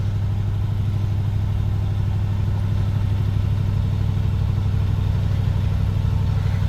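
A Willys jeep idling just after a cold start at about 1200 to 1300 rpm, a steady low, even, pulsing drone heard up close with no voices.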